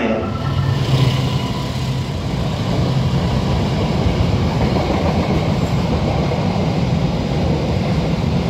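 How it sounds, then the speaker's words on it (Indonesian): A Serayu passenger train rumbles steadily along the tracks in Indonesia, a loud continuous roar with faint rhythmic clatter throughout, close by and unbroken. "Perjalanan kereta api Serayu Malang masuk stasiun Cimahi ya."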